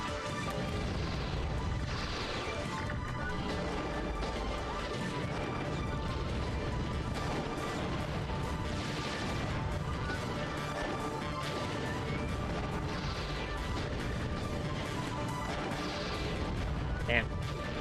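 Robot guns firing in the Custom Robo video game, a dense run of crashing shots and booms layered over game music and sound effects, steady and loud throughout with a sharp burst near the end.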